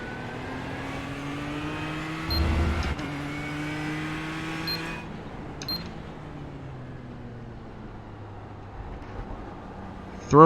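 A race car engine in the iRacing simulator drones steadily at high revs, its pitch shifting with gear changes during an endurance race, fairly loud and continuous with a short burst at the end.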